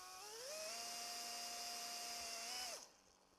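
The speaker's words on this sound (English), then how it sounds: "I'm going to drill some little pilot holes" A power drill whines up to speed and holds a steady high-pitched spin while boring a small pilot hole in a model aircraft part, then winds down abruptly after about three seconds.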